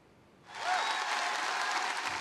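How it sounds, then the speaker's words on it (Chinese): A large commencement crowd bursts into applause for Harvard president Garber, the clapping swelling in quickly and holding as a dense, steady ovation from a big audience. "伫毕业典礼致辞的时阵，哈佛大学校长贾博得到1分钟的掌声"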